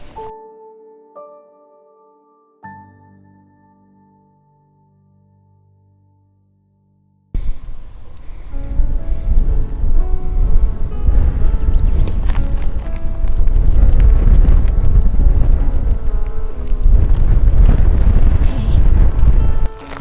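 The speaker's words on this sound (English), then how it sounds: "It's too windy." Strong wind buffets a microphone on a desert hike near a cliff face, a loud, continuous low roar with gusting surges that follows a few seconds of soft tones and near silence.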